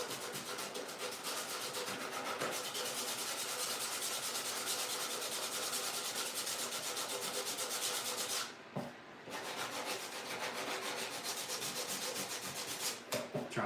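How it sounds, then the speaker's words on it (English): Steady close rasping of sandpaper rubbed over a wooden bluebird house, continuous strokes for many seconds with one brief pause near the end, no voices. "Trying to sand away my blowout before you guys see it"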